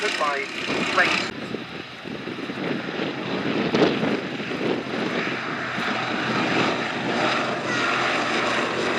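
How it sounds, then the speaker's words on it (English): A Fairey Swordfish biplane flying a display at the Duxford Battle of Britain airshow, with a continuous propeller engine drone that stays fairly loud and steady throughout. Wind buffeting and faint voices run underneath. "Swordfish appearing to be somewhat lumbering about in the wind"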